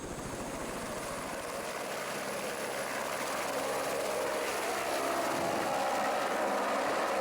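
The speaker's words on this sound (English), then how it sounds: "The rockfall tests wouldn't be possible without the help of helicopters." A helicopter flies in the Swiss Alps at a mountain landing site during rockfall tests, giving a steady, loud rotor and engine roar with rhythmic blade chop that holds throughout, with no talking.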